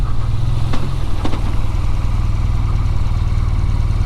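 BMW R12 nineT motorcycle engine while riding toward the Lake District, a loud steady low throbbing rumble with close pulsing exhaust beats throughout.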